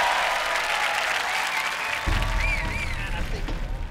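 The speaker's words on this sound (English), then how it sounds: "give him a round of applause" Steady, dense applause from a studio audience at a Robot Wars arena fills the whole stretch, with a host talking over the clapping throughout.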